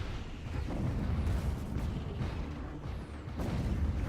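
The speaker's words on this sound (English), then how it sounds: "This is all corvettes, guys, just going in and throwing close range missiles." Corvettes in the space strategy game Stellaris launch close-range missiles during a station battle, a steady low rumbling barrage of muffled blasts and bursts that carries throughout at moderate level, with no talk.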